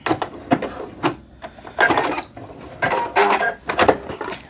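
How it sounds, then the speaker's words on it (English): Sewing machine back stitching the seam of a pair of joggers, short bursts of rapid mechanical stitching close up, separated by brief pauses with clicks and fabric handling. "And a little bit of back stitching"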